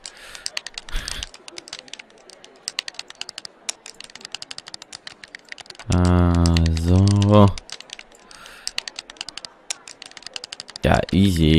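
Rapid clicking and tapping of game console buttons at the Gamescom convention runs steadily throughout, while a person speaks briefly near the middle and again at the end over the clatter.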